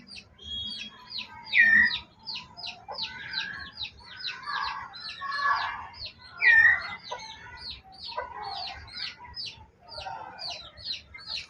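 Forest birds at a bird-breeding farm, a male parent tending its chicks, give repeated soft clucks and calls over a backdrop of many high, rapid chick peeps, all fairly close.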